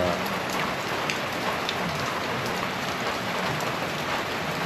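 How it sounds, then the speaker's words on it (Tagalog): Steady rain pours down on a surface, a dense even patter of drops without pause, close and fairly loud. "naabutan na sila ng ulan."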